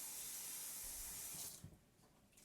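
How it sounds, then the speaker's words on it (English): Cold water runs from a tap into a container as a steady, faint hiss for about a second and a half, then the flow stops and a soft splash and trickle follow. "I'm going to go ahead and fill this up with some cold water"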